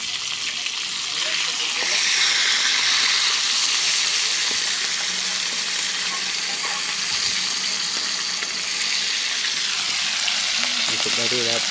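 Fish frying in a pan of hot oil, part of a Thai meal with fermented sour fish, pork cracklings and chopped fermented fish, a steady loud sizzle that holds throughout with brief stirring sounds near the end.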